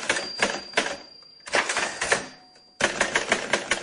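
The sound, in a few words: keys of a classic typewriter typing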